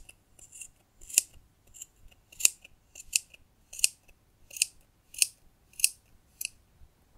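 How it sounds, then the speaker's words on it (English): Scissors snipping through yarn wrapped on a plastic pom-pom maker, about nine crisp close cuts in a steady rhythm with quiet pauses between them. "We'll go into the groove here and just cut this yarn free."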